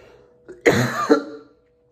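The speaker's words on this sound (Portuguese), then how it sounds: "tô com uma tosse braba dessa virose aí que eu peguei" A person coughs from a viral illness: a short, throaty burst of two or three harsh coughs, close and fairly loud, followed by silence.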